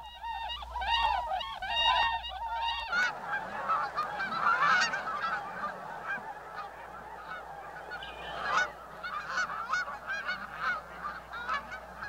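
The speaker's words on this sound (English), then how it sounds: "That's a whistling swan." Several whistling swans call repeatedly, honking and whooping in overlapping bursts, some near and some farther off, with a steady outdoor background.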